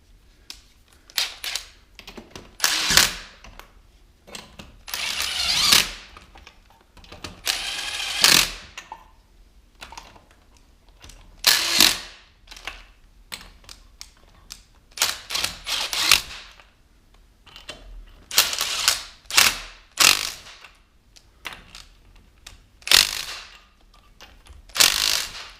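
Cordless impact wrench zipping lug nuts back onto the wheel of a 2003 Chevy Tahoe during a brake pad job, several short loud bursts of whirring and rattling with pauses between them, no talking.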